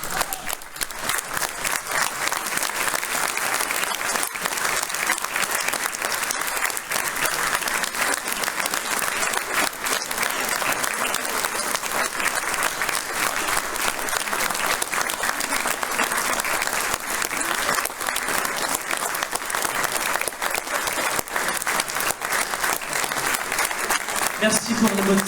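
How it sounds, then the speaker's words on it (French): A concert audience in Montrichard applauds the musicians with dense, steady clapping that stays loud and close from start to finish without pause. "Je vais vous demander de vous lever à nouveau et de les applaudir encore et une fois."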